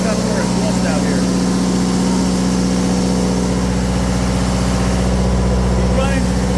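Onan DJB generator engine running on a cool rainy December day, a steady droning idle with a pulsing low rumble, close and loud, continuous and unchanging from start to finish with no talking.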